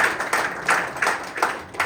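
Comedy club audience giving a short burst of clapping, several uneven bursts close together under a brief fade, not sustained.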